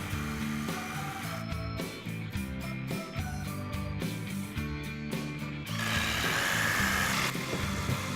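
A power drill whirs steadily, drilling pocket holes into a wooden table frame, with its pitch stepping up and down as it bites, then a harsher grinding rush toward the end.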